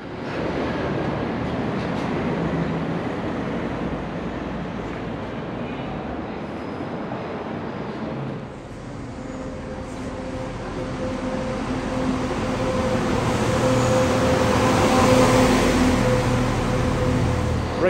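A busy ScotRail passenger train rumbles steadily along the line in Scotland, a continuous muffled interior drone with a brief dip midway before the running noise swells again, with no talking.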